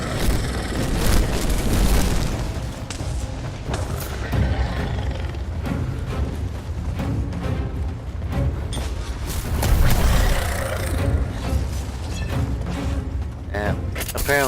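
Loud booming fire attack from an enraged monster in the video game Dauntless, dense rumbling blasts and roars running continuously with swells of intensity, mixed under game sound.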